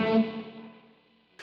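A distorted guitar note rings through an effects chain and fades slowly under a noise gate, tapering toward silence over about a second before a short burst of hiss.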